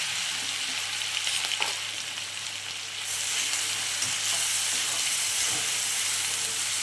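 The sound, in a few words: mustard seeds, cumin and spice paste sizzling in hot oil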